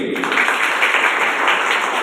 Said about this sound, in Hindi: दोस्तों पहले से भी ज्यादा तालियां बजनी चाहिए